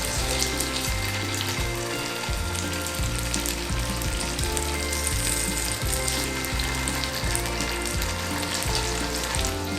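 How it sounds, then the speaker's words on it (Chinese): Vegan stuffed tofu fries in a pan with the filling pressed against the pan's edge, giving a steady, close, dense sizzle and crackle that runs unbroken throughout with no talking. "所以你可以把馅料贴着锅子的边边这样煎"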